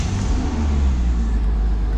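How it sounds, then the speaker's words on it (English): Porsche Boxster 987 with a 2.7 engine and manual gearbox, idling after a start, a steady close low rumble with slight revving texture and no talk. "Now we can see the car starts and idles as it should"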